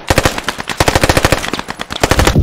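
Rapid automatic gunfire in the World War II shooter game Post Scriptum, loud sustained bursts of closely spaced shots with short pauses between strings.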